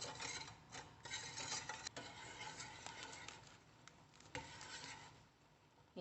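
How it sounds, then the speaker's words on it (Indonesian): Water boils in a pot of Nutrijel jelly mix stirred with sugar for flower pudding, giving a soft, steady bubbling hiss with faint scraping, close and quiet throughout with no talk. "Saya rebus sampai airnya mendidih."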